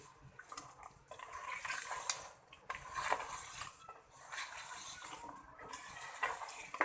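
Chicken korma frying with masala in a pot, faint scraping and clinking of a spoon stirring against the metal in irregular bursts, quiet and close, with no talk.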